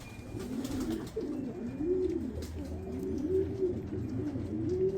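Pigeons coo steadily in soft, rolling, throaty calls, several birds overlapping in a continuous murmur nearby, with light scattered rustles and ticks in the background.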